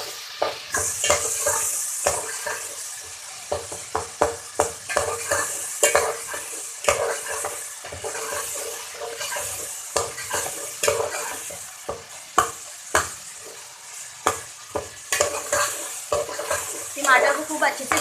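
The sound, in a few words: tomatoes being stirred and fried with onion, garlic and ginger paste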